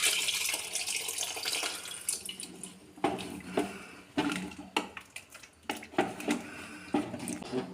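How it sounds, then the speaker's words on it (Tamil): Tamarind water pours into a pot of brinjal gothsu, a steady splashing stream with bursts of liquid gurgling and clinks, close and fairly soft, with no talking. "புளி தண்ணி சேர்த்துக்கலாம்."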